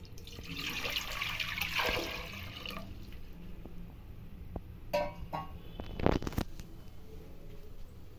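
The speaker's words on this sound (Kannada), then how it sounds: "1 ಗ್ಲಾಸ್ ಅಕ್ಕಿ ತೊಗೊಂಡಿದ್ದೀನಿ. ಅದಕ್ಕೆ 3 ಗ್ಲಾಸ್ ನೀರು ಹಾಕ್ತಾಯಿದ್ದೀನಿ ಅನ್ನ ಮಾಡ್ಕೊಳ್ಳೋಕ್ಕೆ." Water pours from a glass into a pressure cooker holding one glass of rice, a bright splashing rush for about three seconds, then quieter drips, clinks and a few knocks as more glasses are added for jaggery rice.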